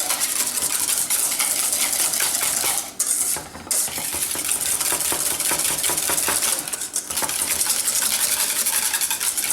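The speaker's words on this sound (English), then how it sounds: "we're going to whisk out any kind of lumps that we have here" A whisk beats a seasoned mixture in a bowl to smooth out lumps, giving a rapid, continuous scraping and clinking of wire against the bowl, close and loud, with a couple of brief pauses.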